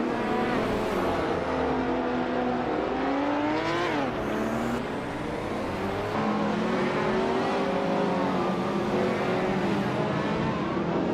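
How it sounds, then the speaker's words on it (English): A 1972 Ford Falcon muscle car races in a video game, its engine droning loud and close with repeated rising revs, shifts and dips throughout, joined by other passing cars. "1972 Ford Falcon, a muscle car known for straight-line speed but lacking agility"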